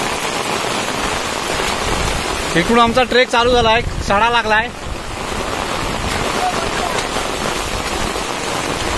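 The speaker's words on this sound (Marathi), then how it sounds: "पाऊस बघा किती आलाय, मुसळधार आहे." Heavy monsoon downpour on a rocky Konkan plateau during a village trek, a dense constant hiss of rain throughout, with someone speaking briefly in the middle over the roar.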